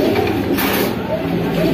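Pigeons of the bunjha breed cooing in a cage at a pigeon seller's stall, soft low continuous coos mixed with busy market background noise and people talking nearby.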